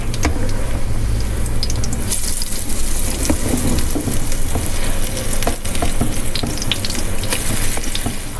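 Pumpkin kaka, a Gilani dessert, frying in hot oil: steady, loud sizzling and crackling with scattered sharper pops throughout, close and continuous with no talking.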